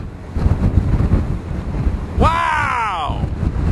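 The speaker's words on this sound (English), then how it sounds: "Wind is cranking." Strong gusting wind buffets the microphone during a tornado chase, a steady heavy roar with a person's voice rising over it partway through.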